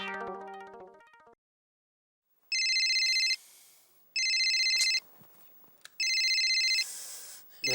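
A telephone rings in repeated bright electronic bursts, three separate long ringing blocks with gaps between them, following a short melodic tone at the start, with no talking.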